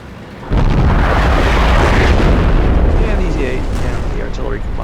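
Artillery shell explosions in the World of Tanks video game, a loud sustained rumbling burst of booming blasts that starts after a brief quieter moment and continues, with no talk.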